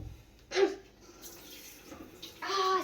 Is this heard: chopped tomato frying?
no